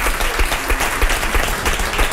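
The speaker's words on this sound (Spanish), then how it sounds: "el primer aplauso quiero dárselo a mi mujer y a mis hijos" Audience applause at a Thinking Party 2012 afternoon session, loud sustained clapping from a large crowd, dense and even throughout.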